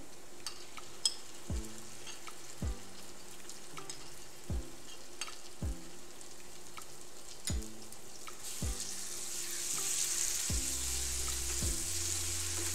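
Onion frying in a pan sizzles softly, with sharp evenly spaced taps of a utensil on the pan rim; near the end a louder hiss and splash rise as blended dried fish, dried chili and garlic paste goes in.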